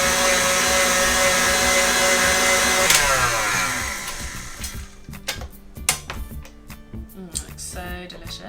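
An electric mixer whirs steadily through buttercream, then cuts out and leaves scattered clicks and taps of a bowl and utensils.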